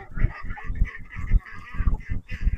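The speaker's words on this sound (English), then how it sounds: "Some of the ducks are going to the pond." Ducks and geese honk and quack in a loud, continuous flock chorus at close range as they make their way to a pond on a rural property.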